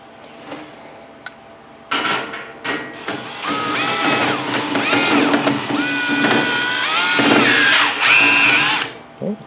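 An electric drill driving a metal shear attachment through a thick sheet-metal cover, short bursts then a long loud whining cut with grinding and squealing, close up.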